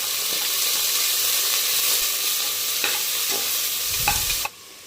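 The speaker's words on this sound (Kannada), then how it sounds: "ಈರುಳ್ಳಿ ಲೈಟ್ ಬ್ರೌನ್ ಕಲರ್ ಬರೋವರೆಗೂ ಒಂದು ಸ್ವಲ್ಪ ಚೆನ್ನಾಗಿ ಫ್ರೈ ಮಾಡ್ಕೊಳ್ಳಿ" Onions frying with curry leaves in a pan for vegetable kurma, giving a loud, steady close sizzle with a few faint clinks, until the sound drops away abruptly just before the end, with no one talking.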